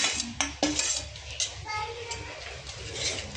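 Grated cheese being stirred into a creamy Mexican rice in a pot, with a sharp metal spoon clank and scraping against the pan, light clinks, and a voice talking faintly underneath.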